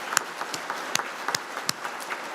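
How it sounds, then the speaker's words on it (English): Scattered, fairly sparse clapping from an audience at a completion ceremony, individual claps spaced out rather than a full roar, moderately quiet with no talk. "Let's give these KAMS AMS staff members a round of applause."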